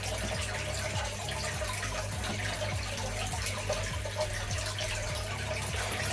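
Water running into an aquarium at an Oranda goldfish breeder's, a constant splashing trickle with a low steady hum beneath it, close and even throughout.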